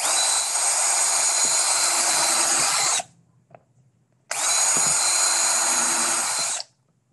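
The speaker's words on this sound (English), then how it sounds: "I'm going to drill now a little bigger one" Power drill boring a larger hole after pilot holes, in two loud sustained whining bursts of about three seconds each, separated by a short pause with small handling clicks.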